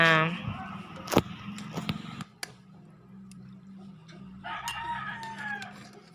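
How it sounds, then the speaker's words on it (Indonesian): A rooster crows loudly at the start and again near the end, with voices and household clatter in between. "suara berisiknya kakak Kiva ditambah suara ayam, suara kendaraan"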